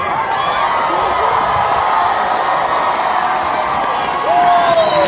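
A rally crowd in McAllen, Texas, cheers and whoops, a loud, steady roar of many voices that swells near the end.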